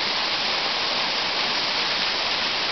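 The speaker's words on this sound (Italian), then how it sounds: "Questa cascata bellissima che si affaccia sul cuore del Mediterraneo." A waterfall on the Mediterranean coast roars in a constant dense wash of noise, steady and loud throughout with no voices.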